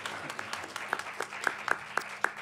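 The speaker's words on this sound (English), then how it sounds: "so I'm going to clap for my audience." A few people clapping in a small panel event hall, sparse distinct claps that grow sharper and closer toward the end, in a quiet room.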